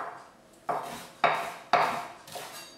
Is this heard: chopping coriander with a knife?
yes